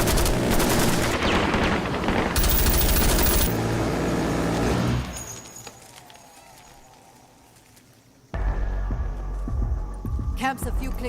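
A Gatling gun in a video game fires in dense, loud, rapid bursts; the sound drops to a quieter stretch before heavy gunfire and clatter return abruptly.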